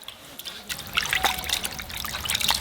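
Fish slices for hand-made fish balls are rinsed again in a bowl of water. Close, irregular trickling and splashing builds up over a few seconds as the pieces are stirred and swished.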